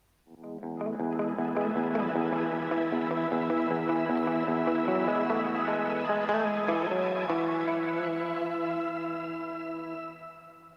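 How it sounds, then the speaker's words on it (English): Crystalline sound-design texture built from pitch-shifted echo layered with plain echo and reverb: a dense stack of sustained shimmering harmonic tones that swells in quickly, holds steady and loud for about ten seconds, then fades, with no voices. "they also add a layer of pitch. So you can pitch the echo up and down. So essentially it can create all these nice crystally effects."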